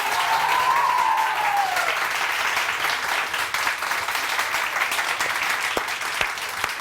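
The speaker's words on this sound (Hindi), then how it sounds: "जरा जोर से तालियां बजा के बताएं" A TV studio audience bursts into loud, sustained applause that fills the whole stretch with dense, even clapping, a few sharper claps standing out toward the end.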